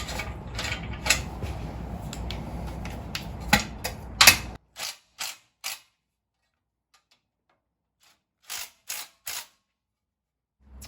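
Ratcheting clicks from tightening bolts on a Rugged Ridge Arcus bumper and Warn winch for a Jeep JL/JT, a quick run of close ratchet ticks over shop noise, then sparse short groups of clicks in near silence.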